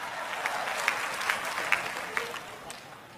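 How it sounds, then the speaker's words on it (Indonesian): Audience at a stand-up comedy show for a Perindo anniversary event breaks into applause, a moderate steady patter of clapping with a few sharper claps that gradually fades. "Tepuk tangan buat Indonesia."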